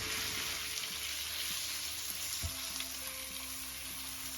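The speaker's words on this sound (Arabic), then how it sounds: "تشحر شويه هاد الكالامار" Calamari sautéing in a pan with onion and pepper, a steady broadband sizzle of frying throughout with occasional soft stirring clatters and one brief knock midway, close and continuous with no talk.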